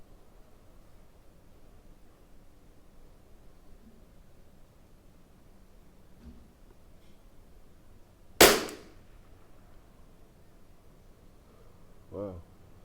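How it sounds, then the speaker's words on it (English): A single sharp crack of a Tikka T1x .22 LR rimfire rifle firing at an outdoor range on a calm day, loud and close, followed a few seconds later by a fainter second report or impact against quiet background. "So Mark shooting right on the dot."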